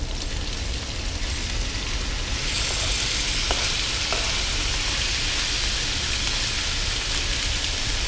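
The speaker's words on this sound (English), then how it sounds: "we're probably going to get a really loud sizzle here" Pieces of cut-up chicken frying in hot oil give off a steady, loud, close sizzle that runs unbroken throughout, with a few faint clicks mixed into the hiss.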